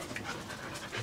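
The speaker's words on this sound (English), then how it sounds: "No greetings from the kids, but we got greetings from dogs" Dogs greet their returning owner with quick, rhythmic, breathy panting right up close, a steady huffing that carries on throughout the short moment without talk.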